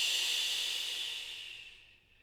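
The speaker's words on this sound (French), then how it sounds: "Inspire, expire. Synchronise bien la respiration avec le mouvement." A slow, steady exhalation during a seated relaxation exercise, soft and close, a breathy hiss that gradually fades toward the end with no talking.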